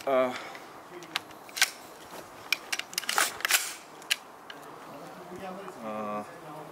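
Licensed HK airsoft rifle running on green gas fires a series of sharp, separate cracking shots at irregular intervals, with a voice speaking softly beneath the shots.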